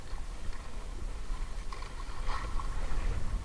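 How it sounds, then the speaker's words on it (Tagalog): Choppy sea waves slosh and slap around a small fishing boat out on squid-fishing grounds, a faint, irregular splashing with gusty wind noise throughout. "Maalon ngayon."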